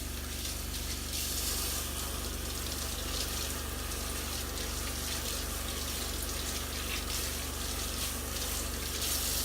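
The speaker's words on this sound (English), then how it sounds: "use my hands to wash the disc with soapy water, making sure I get in all the grooves, and then rinse it off very quickly" Running tap water rinses a soapy vinyl record in a sink, a continuous steady splashing stream that stays close and fairly loud throughout, with no voices.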